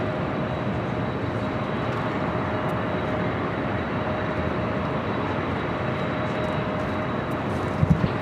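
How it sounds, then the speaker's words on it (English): A 25-year-old Delta Boeing 767-300ER airliner on Delta flight 465 to Honolulu, heard as a steady broadband engine roar holding level throughout, with a couple of brief thumps near the end. "this Delta flight heading to Honolulu, a 25-year-old 767-300ER, flight 465"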